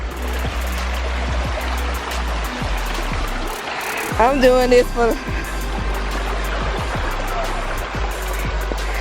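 Stream water rushes steadily through a fall hiking trail as hikers cross it, a constant broadband flow close by, with talking, footsteps and a brief raised voice over the water.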